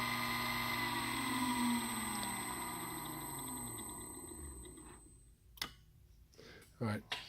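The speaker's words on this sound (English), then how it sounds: "a closer view of the brake while it's running, so maybe you can hear it better. Here's the run. Listen for the click." A running brake mechanism gives a steady mechanical hum with tonal whine, followed by a few sharp clicks near the end, heard close with no talking.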